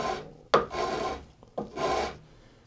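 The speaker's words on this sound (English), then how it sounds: "Rather than the edge sander, I usually take a file or my flatboard sandpaper" Two slow, rasping strokes of a file scraping across the hard edge of guitar binding, each starting with a sharp catch, close up with no voices.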